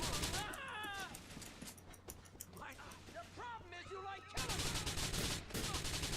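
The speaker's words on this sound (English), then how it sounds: "there will be some people who are out to shoot you." Gunfire in the video game Grand Theft Auto IV, rapid bursts of shots crackling over game sound effects and character voices, growing denser and louder toward the end.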